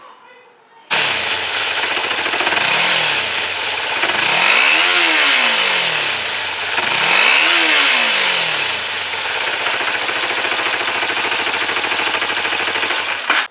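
A car engine with its mufflers still fitted starts up and idles loudly close by, then revs twice with rising and falling engine sweeps before settling back to a steady, rough idle.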